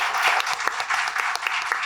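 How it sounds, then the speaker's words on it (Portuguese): Auditorium audience applauding at the end of a literary talk, dense continuous clapping from many hands, close and steady throughout. "A plateia se despede com aplauso."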